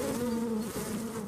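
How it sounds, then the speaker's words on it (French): Honeybees in a hive hum in a dense, steady drone, loud and continuous throughout the short stretch with no break, alone without voices. "Les abeilles veulent quitter la ruche."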